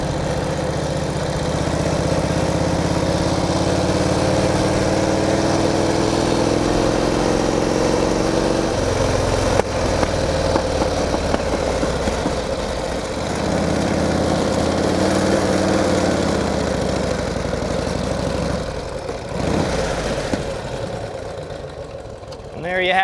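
A 1949 Harley-Davidson Panhead Jack Pine Enduro racer with a sidecar runs steadily while riding, its loud continuous engine drone shifting in pitch as it rises and eases, with a voice talking over parts of it.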